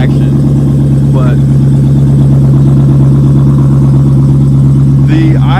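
A Dodge Challenger Hellcat with stock exhaust sits at a steady, loud, low cold idle after starting, the deep rumble constant throughout.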